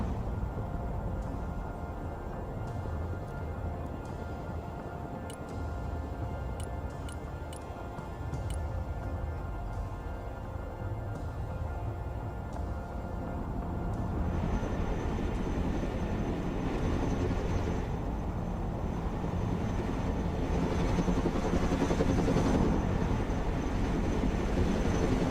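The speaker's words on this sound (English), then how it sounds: "Heavy transport here. Flying to coordinates." A heavy transport aircraft flies in the video game Broken Arrow, a continuous low rumbling drone that swells slightly louder partway through and carries on without voices.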